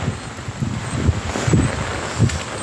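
Strong wind from Typhoon Paeng gusting in Baguio, a steady broadband rush over the microphone with low buffeting thumps and occasional surges.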